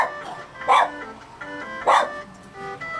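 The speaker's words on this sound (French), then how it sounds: "Luigi, pardonnez-moi pour mon chien qui jappe." A dog barks twice in short sharp bursts about a second apart, fairly close and loud over a faint steady background of retro game music.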